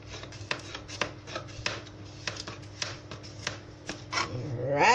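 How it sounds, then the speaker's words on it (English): A knife cuts a carrot into julienne strips with quick, evenly spaced taps against a cutting board, close and crisp, and a slight rise of scraping at the end. "So I'm just cutting my carrot, guys, in julienne strip."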